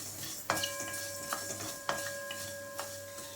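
Fenugreek and cumin seeds roast in a pan for rasam, with soft sizzling and several sharp metallic taps of a spoon against the pan at irregular intervals.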